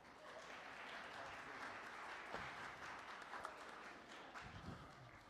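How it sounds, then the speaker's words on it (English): Audience applause fills the room in a steady, dense wash of clapping at an event, holding at an even level throughout with a few louder claps standing out near the end. "Applause."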